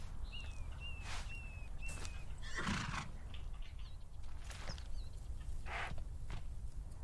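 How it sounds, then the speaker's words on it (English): Horses from the Conan Exiles video game whinny several times in quick succession, a shrill, mid-loud neigh recurring across the clip over a steady low rumble of in-game ambience. "black and white horses"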